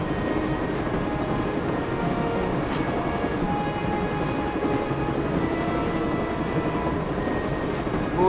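A steady, dense rumble of a moving train in the 1996 game Broken Sword: Shadow of the Templars, loud and continuous throughout with no clear breaks or talking.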